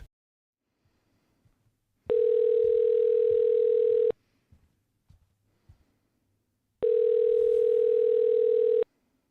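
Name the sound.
telephone call failure tone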